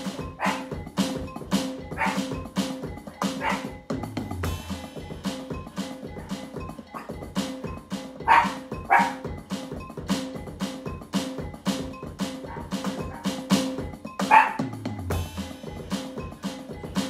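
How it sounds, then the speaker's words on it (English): A dog barks again and again in sharp, uneven bursts, close and fairly loud, with a few softer yips and whimpers between the barks. "Despite random doggy noises"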